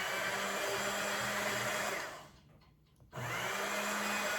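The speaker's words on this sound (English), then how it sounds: "what I'm gonna do now is just use my immersion blender." A steady high whir of an immersion blender puréeing butternut squash and lentil soup, cutting out briefly midway then restarting, close and moderately loud with no talk.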